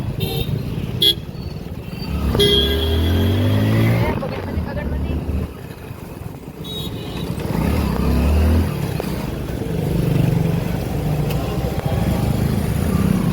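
Busy road traffic on Mount Abu, with motorcycles and cars passing close by, engines droning and rising, and a few short horn toots. Someone talks intermittently over the traffic.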